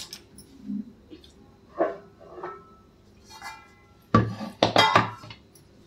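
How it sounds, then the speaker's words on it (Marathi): A wooden board set down under a hot pot of jaggery dry-fruit barfi mixture in a home kitchen: a few faint soft knocks early, then a cluster of louder close wooden clunks and clatter near the end, no talk. "आता याच्या खाली मी पाट ठेवते."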